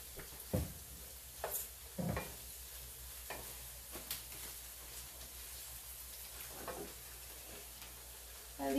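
A big onion frying in a pan for homemade fried rice with crispy shrimp, giving a soft, steady sizzle with a few sharp scraping stirs near the start, quiet and heard alone.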